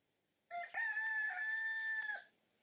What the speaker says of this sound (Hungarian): szeret korán ébredni, hogy bejelentse a világnak ideje felkelni